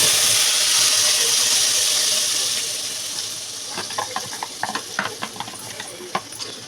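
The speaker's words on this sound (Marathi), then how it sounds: "आणि त्यात आपण कांद्याची प्युरी टाकत आहोत।" Onion puree hits hot oil in a pan with a few bay leaves, giving a loud, steady sizzle that settles after a few seconds into quieter crackling with scattered pops and stirring scrapes.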